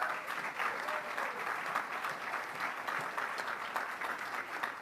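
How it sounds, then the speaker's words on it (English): Steady, fairly distant applause from an awards-ceremony audience at the Yorkton Film Festival's Golden Sheaf Awards, an even wash of many hands clapping without a break. "round of applause."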